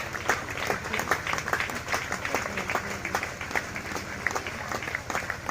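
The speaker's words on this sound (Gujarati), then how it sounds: "તે સમયે આપણે બધા તાળીઓ વગાડી એમને આપણે સન્માન આપીશું" An audience at a church convention claps together in sustained, dense applause that stays loud and even for several seconds, heard close with crowd murmur mixed in.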